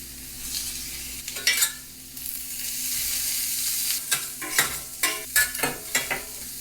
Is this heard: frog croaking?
no